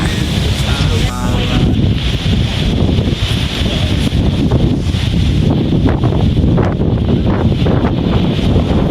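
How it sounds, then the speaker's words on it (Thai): Strong wind roars and buffets the microphone continuously, a loud, rough rush with gusty low rumbling throughout. "โอ้ลมแรงมากเลยค่ะ"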